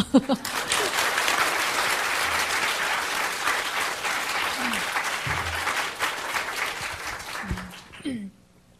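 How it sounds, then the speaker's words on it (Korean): A congregation at a Sunday afternoon church women's dedication service gives the speaker a renewed round of applause, full steady clapping from many hands that tapers off near the end, with brief voices at the close. "이렇게 얘기하면 이제 다시 박수를 쳐야 됩니다."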